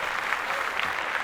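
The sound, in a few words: applause for Denzel Curry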